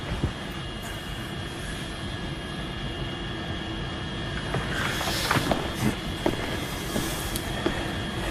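Steady airplane engine drone heard inside the passenger cabin in flight, a constant loud hum with faint tonal whine and some brief rustling and clattering in the second half.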